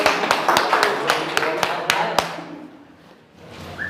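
Applause for the faculty and staff at a school result celebration, heard as a run of sharp, evenly spaced claps that thin out and fade near the end while talk goes on underneath.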